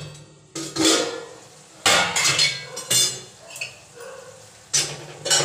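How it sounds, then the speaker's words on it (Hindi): Sweet chutney is mixed with a spoon in a pot, giving loud metallic scrapes and clinks that come in several bursts with short pauses between them. "बढ़िया से मिक्स कर देते हैं"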